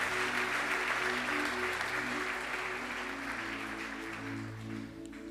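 A church congregation applauds and cheers loudly for the Lord, a dense continuous wash of clapping with sustained organ-like tones underneath, steady throughout and easing slightly toward the end.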